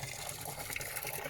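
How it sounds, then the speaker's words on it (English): Running water from a single garden pool water feature in a sunken garden with koi, cascading constantly as a steady, close, broadband wash with no talk over it. "this single water feature's filling this whole garden with"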